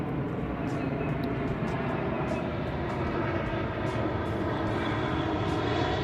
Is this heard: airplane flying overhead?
yes